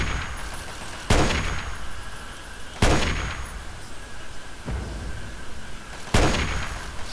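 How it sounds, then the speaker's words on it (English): Gunfire in the Fallout 3 video game: three sharp, heavy shots ring out at irregular intervals, each with a metallic ring and a lingering tail, over a steady background hum. "Somebody else shooting me?"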